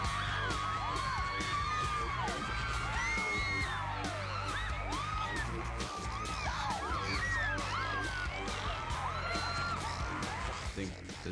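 A dense crowd of fans, rock-band followers screaming and whooping nonstop, loud and close, with many overlapping yells and shrieks and talk mixed in.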